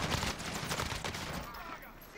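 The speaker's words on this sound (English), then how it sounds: "I was getting shot." Dense, rapid gunfire rattles almost nonstop during a multiplayer shooter video game match, with overlapping bursts that stay loud and close throughout.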